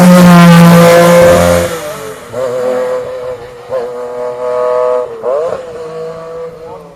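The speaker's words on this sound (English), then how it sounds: "Metro 6R4." Metro 6R4 rally car accelerates hard at a hillclimb, a loud, close engine roar shifting through gears before fading into a more distant rising whine.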